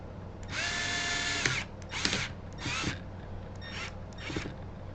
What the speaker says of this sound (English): We'll crank the power wrench up a little bit.